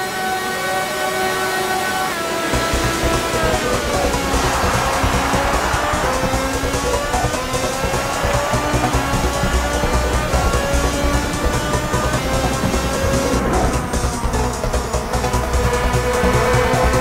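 Racing motorcycle engines in the 2003 video game MotoGP 3 wail loudly and continuously, rising and falling in pitch through gear shifts over an unbroken stretch.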